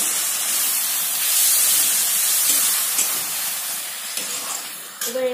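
Water splashed into a pan of hot oil with fried mushrooms sends up a loud, continuous steamy hiss and sizzle that slowly fades, with a few clinks of the pan near the end.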